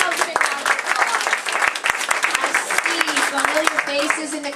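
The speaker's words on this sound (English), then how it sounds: "Give yourselves a big round of applause." A live audience at a radio-themed stage performance gives a full round of applause, the dense clapping continuing throughout while someone talks and voices carry over it.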